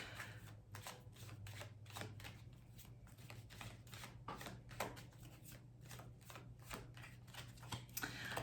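Tarot cards are shuffled with quick repeated riffling and soft slaps, a faint close patter of snaps that continues steadily with no talk.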